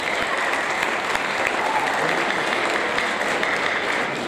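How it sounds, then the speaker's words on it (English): An audience at a seventh-grade awards ceremony applauds a student award winner. The clapping is dense and even, holding steady the whole time without speech. "Round of applause for Sam."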